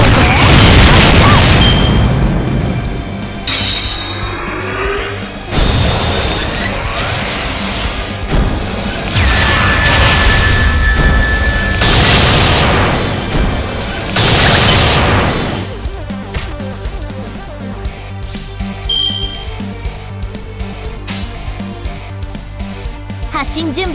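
Da Vinci (Rider) special attack in the Fate/Grand Order mobile game, a loud burst of booming blasts, whooshes and crashes that rises and falls across the clip, with character voices speaking over and between the hits.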